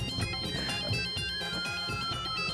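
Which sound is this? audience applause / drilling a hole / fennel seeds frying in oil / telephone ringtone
telephone ringtone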